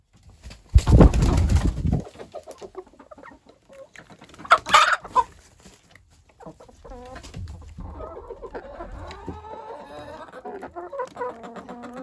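Chickens cluck and squawk nearby in scattered bursts while eating flaxseed, a couple of loud flurries early on and softer clucking afterward.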